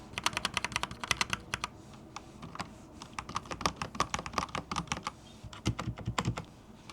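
Someone types in quick, uneven bursts on a clicky computer keyboard, crisp clacks close up with short pauses between runs and nobody speaking.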